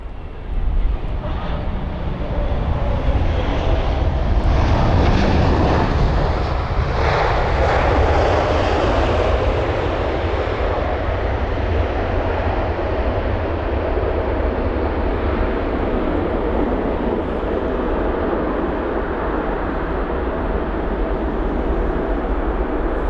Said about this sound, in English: it's the 787-9 Dreamliner with Virgin Atlantic. It's the arrival from Mumbai